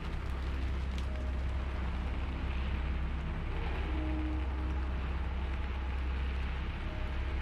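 Steady rain falls without pause, a dense, even wash of hiss with a low rumble beneath it, constant in loudness throughout and with no voices.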